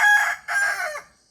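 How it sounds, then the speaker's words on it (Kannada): A rooster crows close by in two quick, bright bursts, the second trailing off, with no one speaking over it. "ನಮ್ಮ ಕೋಳಿ ಹೂ ಅಂತ ಇದೆ"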